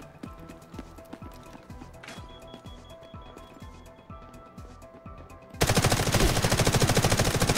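A hunting shotgun fires in the Delta Force video game: rapid, regular shots thump at moderate loudness, then a much louder, dense burst of gunfire takes over for the final seconds.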